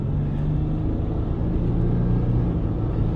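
Volkswagen Amarok 3-liter V6 pickup accelerating at full throttle, a steady deep engine rumble heard from inside the cab, moderately loud and continuous with a slowly rising tone.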